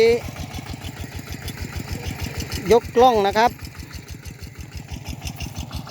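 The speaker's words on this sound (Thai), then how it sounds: "เอารถไถเดินไป ล่วงหน้าก่อนนะครับ" A walking tractor's small single-cylinder engine chugs with a fast, regular putter close by in a field being ploughed into raised beds, while someone talks briefly over it.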